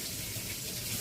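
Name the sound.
tap filling jars with filtered water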